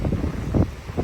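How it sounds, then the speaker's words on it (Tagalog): Wind gusts buffet the microphone outdoors in snow, a low rough roar swelling in short bursts over one second. "Hangin no."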